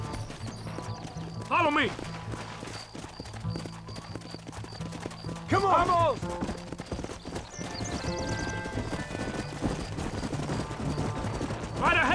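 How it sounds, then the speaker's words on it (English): Horses gallop with rapid, rhythmic clip-clopping hooves in Red Dead Redemption gameplay. Occasional whinnies rise above the hoofbeats while characters shout over them. "Mount your horse!"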